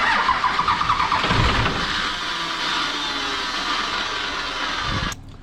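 A 12-valve Cummins diesel cranks over and catches with a loud, steady broadband roar, the starter rhythm audible near the start before a rough run settles; it cuts off abruptly at the end.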